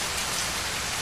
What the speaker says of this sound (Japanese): すごい雨ですね。